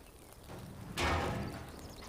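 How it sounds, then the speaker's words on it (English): Debris crashes down in the video game Portal: a single loud, broad burst around the midpoint that tails off over about a second, heard alone against a steady background. "Crashing debris."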